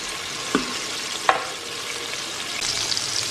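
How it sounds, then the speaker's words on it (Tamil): Chopped onions and tomatoes fry in hot oil in a pan, a steady broadband sizzle with two brief utensil clicks near the start, with no talk. "அதில் வந்து நம்ம கட் பண்ணி வச்சுருக்கிற வெங்காயமும் தக்காளியும்"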